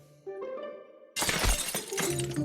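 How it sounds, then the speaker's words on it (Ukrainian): Window glass shatters in the video game Dark Riddle with a sudden loud crash that spills into scattered tinkling fragments. Game music plays before the break. "Ніколи не розбивайте комусь вікна."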